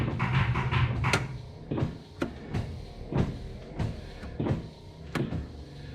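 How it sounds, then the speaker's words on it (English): The electric windshield washer pump of a 1966 Ford Galaxie 500 convertible whirs in short bursts, several brief motor runs separated by pauses, with faint clicks in between. "And the washer pump makes noise."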